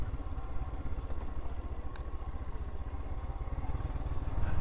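A Royal Enfield Himalayan motorcycle rides in third gear along sunflower fields in France, its engine a steady, close, throbbing drone with a continuous low rumble and no voices.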